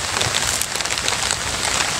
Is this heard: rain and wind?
yes